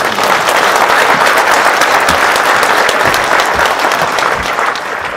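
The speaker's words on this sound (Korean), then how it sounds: "이분들한테도 박수를 한번 드리겠습니다." An audience at a lecture in Yangpyeong applauds young soldiers: steady, dense applause from a large crowd that carries through the whole stretch and eases slightly at the end.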